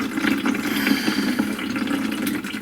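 Fuel flowing from the wide-open fuel cock of a 1937 Briggs and Stratton Model A engine, a steady trickling, gurgling stream heard close and alone for a few seconds.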